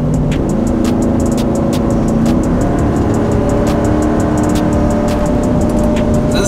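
A lifted Ford F-150 with the 5.0 engine on an E85 tune accelerates hard, heard loud from inside the cab. The steady engine roar climbs in pitch through the gears with rising tones and shift breaks, alone.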